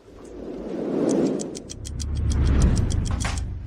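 A home printer running off a new document, its mechanism whirring and clicking in a steady stream of small ratcheting ticks over a low grinding rumble, close and fairly loud.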